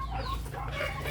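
A blue breeding hen clucks in short, close, moderately loud bursts over a steady low background hum.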